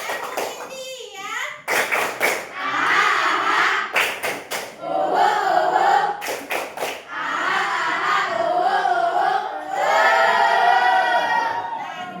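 Schoolchildren in an Indonesian middle-school classroom chant tepuk India together, punctuating their loud, energetic group voices with rapid bursts of synchronized hand claps at a close, roomy distance.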